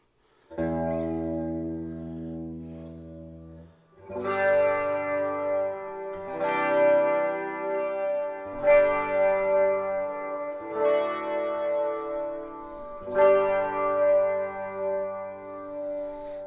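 A clean electric guitar, a Stratocaster with no distortion or overdrive, plays slow sustained chords through a Dimension C chorus pedal with a shimmering, wavering effect, each chord ringing out before the next.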